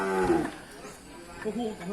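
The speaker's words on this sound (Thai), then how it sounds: "วันนี้พี่เคียงเอาวัวมาขาย" Cattle mooing at a Thai livestock market, one close, drawn-out low moo at the start followed by a fainter second call amid ambient crowd noise.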